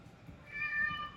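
A single short cat meow, fairly close and moderately quiet, over faint room background.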